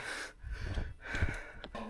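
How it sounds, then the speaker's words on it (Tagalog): Heavy, ragged panting after a steep climb in cold mountain air at Atok, Benguet, a few close, breathy gasps and exhales over about two seconds with no talk. "Ang hindi lang maganda yung hingal pare."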